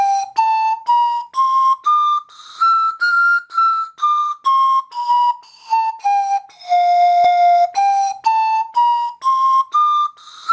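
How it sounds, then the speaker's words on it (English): Portuguese pan flute playing a breathy melody of short notes stepping up and down in a regular rhythm, one longer held tone near the middle, loud, close and alone. "Cipro de Afaiador or Pan Flute."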